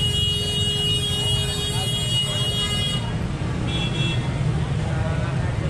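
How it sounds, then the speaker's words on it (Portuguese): Street traffic in Hoi An, Vietnam, with a vehicle horn sounding amid the steady drone of passing cars and motorbikes. The first half carries high tonal toots and the rest settles into a continuous, fairly loud road rumble. "Você viu aí a buzina, conseguiu ouvir."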